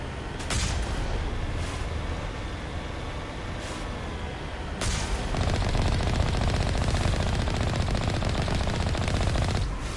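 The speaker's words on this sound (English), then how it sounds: "Just had to do a couple warning shots, you know?" Weapon fire in the Mass Effect video game, fired from the Mako vehicle: rapid bursts of shots crack repeatedly over a loud, continuous engine rumble, with the firing growing denser and louder partway through.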